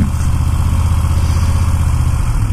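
Motorcycle engine idling steadily after the throttle is rolled off during a hill stop, a continuous low rumble close by with no talking.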